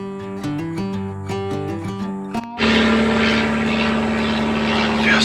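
After a few seconds of tonal music, a propeller aircraft engine drones loudly and steadily overhead above a Georgia deer-hunting stand, a sustained whining roar with no speech.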